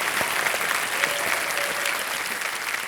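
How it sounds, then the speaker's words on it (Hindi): Studio audience on KBC Season 14 claps to welcome a contestant from Pune, a dense, even burst of applause from a large crowd, loud and continuous throughout. "और एक बार फिर तालियों के साथ उनका स्वागत किया जाए।"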